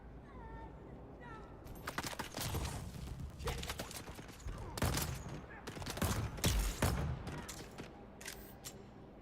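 A turret in the video game Dune Awakening fires in irregular clusters of sharp, crackling shots, fairly quiet overall, repeating every second or so across the clip.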